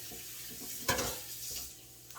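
Quiet, steady sizzle of finely chopped garlic frying in heated oil in a 12-inch wok, with a brief burst of louder crackling and stirring just before the one-second mark.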